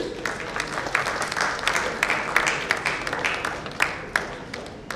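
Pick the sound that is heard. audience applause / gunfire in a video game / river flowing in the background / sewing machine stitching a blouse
audience applause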